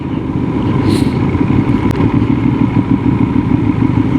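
A parallel-twin motorcycle exhaust rumbles steadily and throatily at close range, an even low drone with no pauses.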